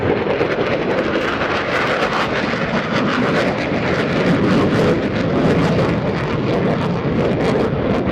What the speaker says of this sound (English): Coming in from the right, your United States Navy's A-18 Super Hornet.